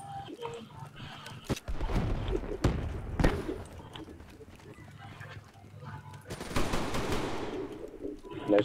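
Gunfire in the shooter Black Ops 3, rapid automatic bursts and single cracks in clusters with pauses between, loud and close, with a voice speaking at times.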